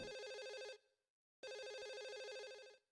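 Electronic telephone ring in the survival horror game Silent Hill 4: The Room, two bright warbling trilled bursts separated by a brief silence, clear and steady with nobody speaking.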